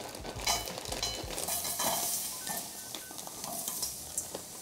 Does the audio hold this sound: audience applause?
no